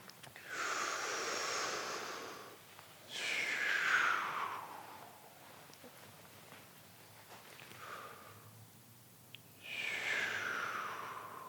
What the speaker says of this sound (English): That's obviously not how I'm breathing all the time, but I can make it more audible and make it sound louder